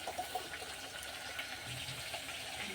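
Rinse water is poured off basmati rice, a soft, close splashing trickle of water that keeps going for a few seconds, with no talking.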